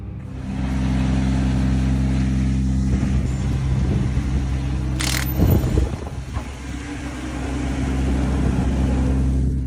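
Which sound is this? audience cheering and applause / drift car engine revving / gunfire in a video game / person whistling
drift car engine revving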